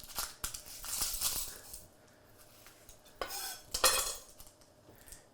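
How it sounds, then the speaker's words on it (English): Knife chopping celery, red pepper, onion and garlic into quarter-inch pieces for Spanish rice, quick bursts of close taps and scrapes on a board separated by quieter gaps, fairly faint overall. "we just want to get everything cut up into quarter-inch pieces"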